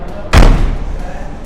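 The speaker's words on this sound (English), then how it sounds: "you have to slam the door to shut it." The door of a Morris Minor 1000 is slammed shut, one loud, close thud that rings briefly and then fades.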